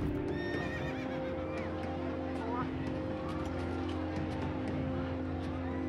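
A thundering horse at the Epsom races, rendered as galloping hoofbeats and a shrill neigh, with steady loud crowd and engine-like rumble underneath and a voice talking over it.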